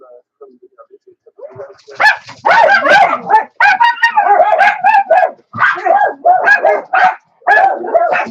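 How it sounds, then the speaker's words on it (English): Several dogs barking and yipping in rapid, excited bursts close by, with short pauses between volleys. "you can hear my dogs. They're having a good time"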